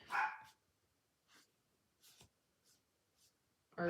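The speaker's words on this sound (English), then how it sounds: "I'm sorry about the stupid dogs." Several short barks from dogs, a sharp burst at the start and end with fainter, scattered yips between them.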